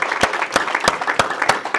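Loud applause from a church congregation at a Bible study, rapid dense clapping with a few sharper claps standing out, continuous throughout.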